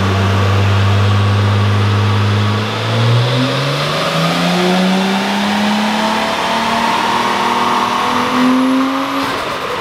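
An RB25DET engine fitted with a China turbo revs up hard during a run, its loud engine note climbing steadily in pitch from a low idle into a sustained high-rpm wail, with no talking.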